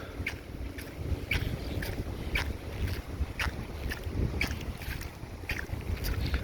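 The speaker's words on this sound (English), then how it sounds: "it's real windy now" Strong wind at a beach near Gulfport and Biloxi buffets the microphone in a continuous roaring rumble, with repeated gusty thumps throughout and no voices.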